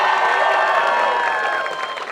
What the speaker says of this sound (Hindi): अपने लिए फिर से एक बार ताली बजाओ